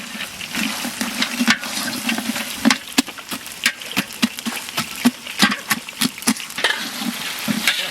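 Fish heads with green chilli and turmeric go into a hot pan in a village kitchen for a traditional Bengali rohu curry, giving a steady sizzle with repeated sharp spatula scrapes and stirring clatter close by.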